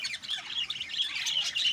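A pigeon handled by its trainer at a Bond Bazi pigeon-flying event gives steady, thin squawks and chirps that run unbroken for the whole stretch, moderately close and fairly quiet.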